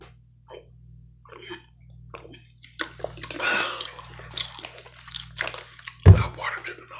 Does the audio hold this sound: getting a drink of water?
yes